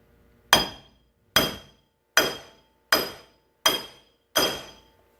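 Six evenly spaced, sharp hammer blows drive an aluminum pulley into brass, each a loud, ringing metallic strike that decays quickly, close up and with no voices.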